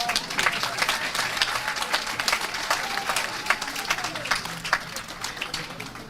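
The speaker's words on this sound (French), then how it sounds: "Applaudissements alors." Applause at a Belgian customs school diploma ceremony: a sustained round of crowd clapping, moderately loud and even, with sharp individual claps standing out.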